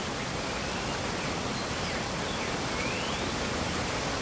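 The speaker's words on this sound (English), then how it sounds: "Can I go under the waterfall?" A waterfall in a virtual-reality relaxation scene roars as a dense, unbroken wash of broadband noise, steady and enveloping from start to finish, with no voices over it.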